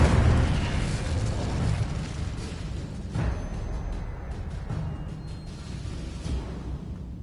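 A fire spell goes off in a Hogwarts video game: a loud whooshing burst that booms at the start, then a long rumble of flames that slowly dies away, with a few smaller bursts along the way.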